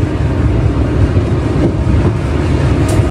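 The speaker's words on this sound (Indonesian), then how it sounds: "Kereta api melintas di sini dengan kecepatan rendah, yaitu 40 km/jam." A train rolls slowly at about 40 km/h across a bridge, a loud, steady low rumble and rattle of wheels and carriages heard up close, continuous with no voices.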